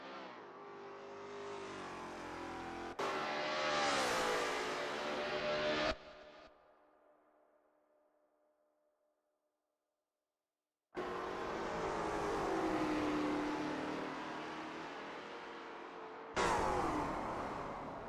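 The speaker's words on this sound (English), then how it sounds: "That ASRL T70 MkII Spyder looks good driving through Clubhouse Bend." A Lola T70 MkII Spyder race car at Kyalami '67 in a racing game, its engine revving and shifting through gears up close, then cutting to near silence before the loud engine note returns.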